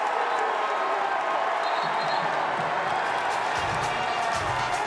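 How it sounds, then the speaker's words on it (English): A basketball arena crowd in Morgantown roars steadily during a Kansas at West Virginia college game, a dense sustained cheer with scattered whoops and applause, loud and continuous under faint commentary. "This crowd is rocking in Morgantown"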